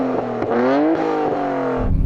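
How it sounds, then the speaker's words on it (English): A Nissan Skyline R34 engine in the Gran Turismo video game revs hard, its pitch climbing and dropping across a couple of quick, loud bursts before settling into an even, close drone. "Go on, rev up the R34."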